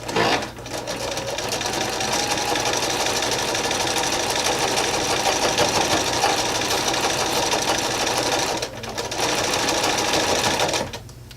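Sewing machine stitching quarter-inch seams on diamond-shaped quilt pieces, a close, steady rapid mechanical whir that briefly pauses near the end before starting again.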